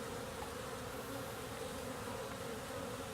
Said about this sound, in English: Short of a catastrophe, I would think I'll have bees going in the spring.